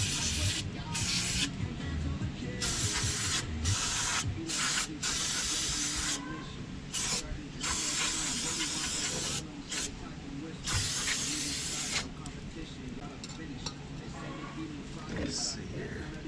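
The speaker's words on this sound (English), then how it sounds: "Use your power washer and a can." An aerosol spray can cleans a Chevy G20 van's brake wheel cylinder, with long, loud hissing bursts that start and stop repeatedly, close to the mic, while someone talks.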